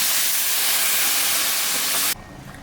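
Hot water poured into a simmering vegetarian curry of drumsticks and yam gives a loud, broad hiss and sizzle that holds steady for about two seconds, then drops sharply to a quieter simmer.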